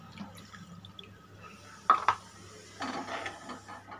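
Water is added to goat meat soup simmering in a pot: a pair of brief splashy clinks, then a short, soft burst of pouring and bubbling over a low, steady background hum, with no voices.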